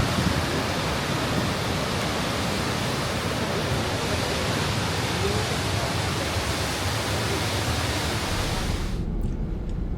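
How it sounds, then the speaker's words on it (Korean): A powerful waterfall in the Canadian Rockies roars in a dense, constant rush that fills the scene, then cuts off abruptly near the end. "웅장한 폭포 소리의 여운을 안고"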